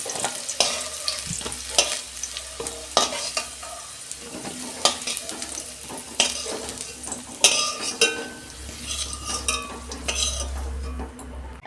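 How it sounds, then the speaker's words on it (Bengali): Potato pieces frying in hot oil for a Bengali-style dal, with a steady close sizzle broken by repeated scrapes and stirring clinks of a utensil against the pan. "ওই তেলে আমি আলুটা আমি 2 মিনিট ভেজে নেব"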